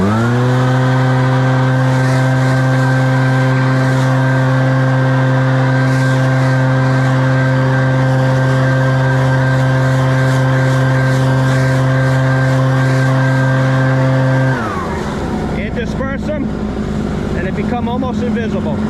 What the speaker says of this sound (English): I'm going to start blowing the nooks and crannies back into the lawn so Renee can suck them up.